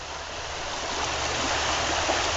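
Along the Tuscarora River, creek water rushes over a rough stretch in a continuous broadband roar that swells slightly louder partway through, with no voices.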